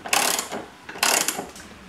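A ratchet wrench with a 13mm socket tightens a screw while a Touratech Zega Pro2 rack is installed on a Honda Africa Twin CRF1000 motorcycle, giving two close, loud bursts of quick clicking.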